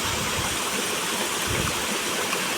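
A clear stream in the Konkan region of India rushes and gurgles continuously, a steady close flow with no pauses.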